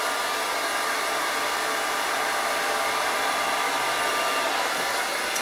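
A hair dryer set to low heat and low airflow blows with a loud, even, continuous whoosh and hum throughout, close to the microphone, while curly hair is styled and no one speaks.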